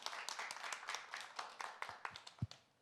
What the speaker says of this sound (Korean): 민병헌 선생님 박수 한번 쳐주시겠어요?